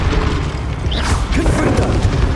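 A Bombarda spell blasts in Hogwarts Legacy: a loud, dense explosion with crashing debris fills the whole short moment amid ongoing combat noise.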